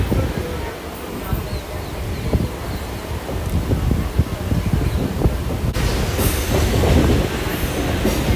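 MEMU passenger train running between Rajahmundry and Bhimavaram, heard from on board as a steady rumble with rattling wheel clatter that grows louder and brighter near the end.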